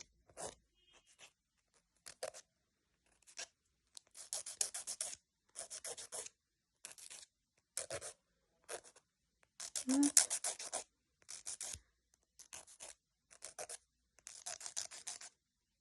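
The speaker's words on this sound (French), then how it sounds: "Je lime aussi un peu les bords parce que sinon ils sont trop tranchants" Fingernail edges being filed with a nail file, close up: a series of short, dry rasping strokes in separate bursts with brief pauses between them, fairly quiet and with no talking.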